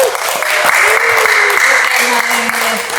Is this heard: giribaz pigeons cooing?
no